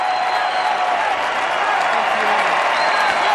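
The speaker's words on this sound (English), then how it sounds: "as we listen to the applause" Sustained applause from a large crowd for John McCain's speech at the Republican National Convention, a dense, steady roar of clapping that continues without a break.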